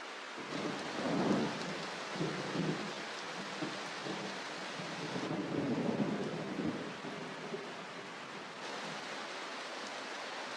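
A jungle thunderstorm pours heavy rain in a dense, steady hiss, with low rolling thunder swelling twice and fading under the downpour.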